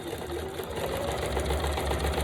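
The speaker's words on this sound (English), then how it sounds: "Sew down here. And then I'm gonna turn it, sew across the bottom of this envelope." Sewing machine stitching across the bottom of a paper envelope, giving a steady, close mechanical whir and rapid needle chatter through the whole stretch with no speech.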